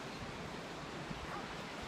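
Steady broadband roar of Pacific Ocean surf rolling onto the beach at Hermosa Beach, California, a constant wash with a faint wind rumble and no distinct breaks.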